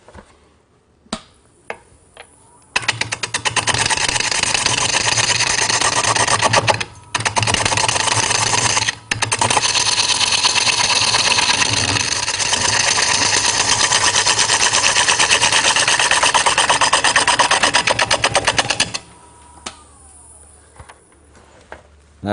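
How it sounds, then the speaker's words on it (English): Carbide tool cutting wood on a lathe in a workshop, a steady loud broadband scraping hiss that runs continuously for about sixteen seconds with a couple of brief pauses, then stops to quiet. "So now I'm going to switch to a carbide tool and make it a little smoother"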